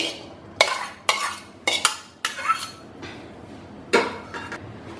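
Crushed garlic dropped into a kadai on the gas, heard as a series of sharp metallic clanks and scrapes of a spoon against the pan, about half a dozen knocks spaced unevenly.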